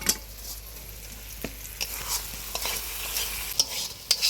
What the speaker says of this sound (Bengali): যেন তেলে ফুটছে মনে হচ্ছে।